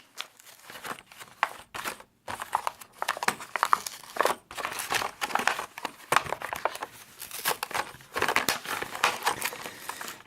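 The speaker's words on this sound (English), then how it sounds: "I'm going to cut this file card" Scissors cutting a cardboard file card off the card back of a 1993 GI Joe HEAT Viper v2 figure, giving steady close crinkling, snipping and crackling of card and plastic for about ten seconds, with brief pauses.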